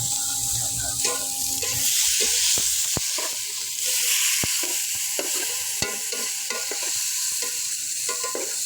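Spices, tomato and onion fry in a pan for kushka while a spoon stirs them, giving a steady sizzle broken by repeated scraping clicks throughout.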